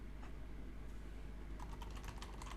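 Typing on a computer keyboard, faint clicking keys in a quick irregular patter that picks up toward the end over a steady low hum, with no speech.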